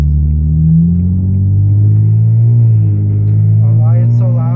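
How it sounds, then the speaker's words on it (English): A loud exhaust drone from a 2003 Nissan 350Z Touring while driving, a steady low rumble with gentle rises in revs heard from inside the cabin, with a voice talking over it. "it's a loud car. It's mainly because of the exhaust."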